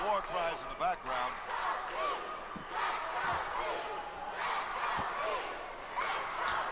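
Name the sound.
wrestling crowd chanting "Let's go, Chief" and war cries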